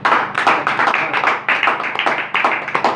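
Congregation at a church gathering clapping for a husband and wife, loud close hand claps in rhythmic bursts and rapid patters, with short gaps between rounds.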